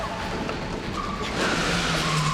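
A car skids to a stop, a rising tire squeal over engine rumble lasting a couple of seconds, loud and close.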